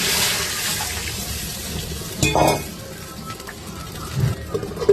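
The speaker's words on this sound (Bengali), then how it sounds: "এখন দিব ঝোলের পানি" Water pours into a curry pot of simmering vegetables to make the broth, a brief gushing splash in the middle amid faint kitchen clatter and low background noise.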